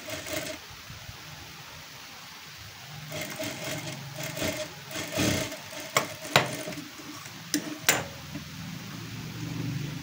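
A sewing machine stitches a princess-cut blouse. A low continuous whirr runs under irregular handling noise, with a few sharp clicks and knocks nearby and no voices.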